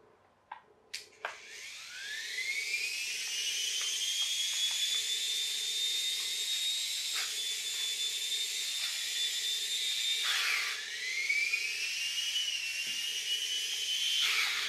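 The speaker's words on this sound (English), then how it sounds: "we probably have to spin it up to get it going. To get the flywheel going." An Air Hogs Moto Frenzy infrared RC motorbike's flywheel whines as it spins up, a high rising whir that climbs in pitch after a few clicks, holds a steady loud drone, dips briefly near the end and then spins up again.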